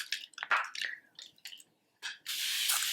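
Short bursts of La Roche spring water facial mist sprayed close by, several quick puffs followed by a longer, steady hiss of fine spray.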